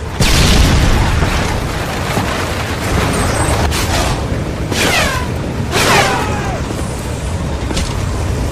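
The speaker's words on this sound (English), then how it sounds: "Friendly predator missile inbound." Predator missile strikes in the video game Modern Warfare 3: a loud boom opens the clip, followed by further explosive bursts and whooshing debris with gunfire-like cracks in a continuous loud battle din.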